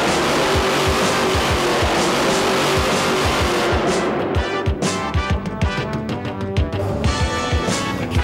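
A mud-racing four-wheel-drive monster truck engine roars loudly and steadily, then breaks into rapid revving pulses as the truck races.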